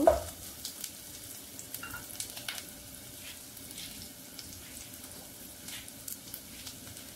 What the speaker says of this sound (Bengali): এখন এটা আমি সামান্য ভেজে নেব।